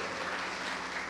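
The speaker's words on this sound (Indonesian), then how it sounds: "Tepuk tangan yang meriah bagi Tuhan kita." A church congregation gives a sustained round of applause during a sermon, a dense, even wash of clapping that fills the whole moment without any voices on top.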